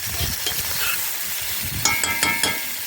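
Onion frying in a pan for mushroom soup gives a steady close sizzle with soft stirring scrapes and a few brighter clicks near the end, no voices.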